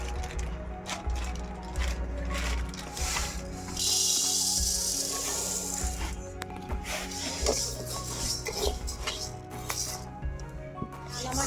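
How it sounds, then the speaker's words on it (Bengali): Moong dal dry-roasting in a pan for khichuri, giving a steady scraping, rustling sizzle of lentils stirred against the metal, with occasional clinks of the utensil and a brief louder hiss partway through. "মুগ ডালটা ভেজে নিব আমার"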